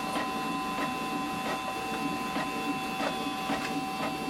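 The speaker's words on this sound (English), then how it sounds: "We can see it has started to take pages, both pages in and out, and it's printing as well." A Canon TR4520 inkjet printer feeds pages in and out while running a black copy, making a steady mechanical whir with regular soft clicks and ticks roughly every half second, close and continuous.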